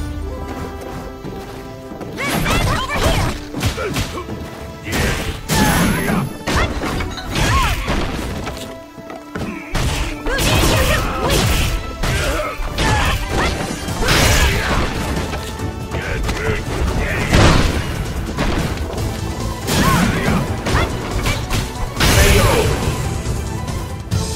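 Heavy hits, thuds and crashes pound through a Street Fighter V round featuring Zangief, dense and loud over game music and effects, with an announcer voice in places.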